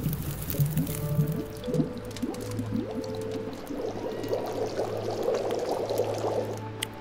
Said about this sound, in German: jetzt das Wasser abkochen